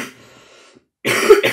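A woman gives a single close, harsh cough burst after a quiet pause, her throat irritated and just treated with cough syrup.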